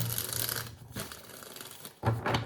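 Tarot cards shuffled close by in two papery, crackling bursts with a quieter pause between them.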